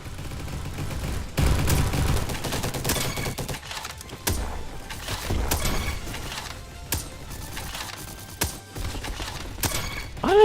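Rapid gunfire from an AWP sniper rifle and other weapons in the Roblox shooter Bad Business, with bursts of sharp shots, mechanical clacks and clicks running throughout, loud and close, and no voices.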